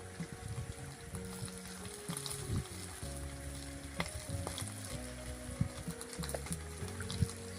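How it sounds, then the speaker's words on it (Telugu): Grease melts in a pot over a fire with a steady close crackling sizzle, dotted with louder pops and spits and some faint clinks and bubbling, and no voices. "గ్రీజ్ అయితే కొంచెం కొంచెం అయితే కరుగుతుంది"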